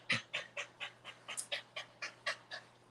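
Panting of a dog that is half Labrador, half dachshund, about a dozen quick, rhythmic huffs in under three seconds, fairly close and fairly quiet, with no talking.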